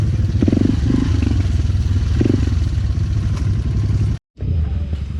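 An enduro motorcycle engine runs rough and misfiring, a steady close chugging idle with uneven pulses that cuts out for a split second near the end before picking back up.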